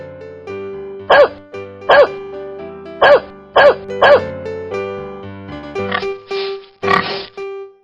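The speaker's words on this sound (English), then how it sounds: "Dog." A cartoon dog barks in five sharp, evenly spaced woofs over a bouncy musical backing, followed by a couple of longer grunting, oinking-like calls.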